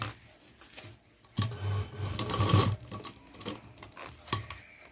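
A home sewing machine runs a straight stitch along a seam on a handmade fabric tiffin lunch bag, its motor whirring in close bursts with a louder stretch in the middle and light clicks of fabric handling.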